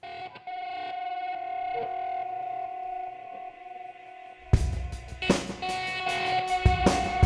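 Sustained, shimmering guitar tones through a fully wet reverse delay on a DD20 pedal swell in with a backwards, washed-out quality, then a burst of louder, distorted strumming crashes in for the last few seconds.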